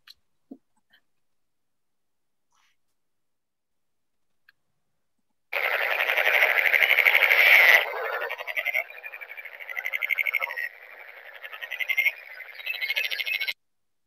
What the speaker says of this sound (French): Donc voilà, la grenouille verte.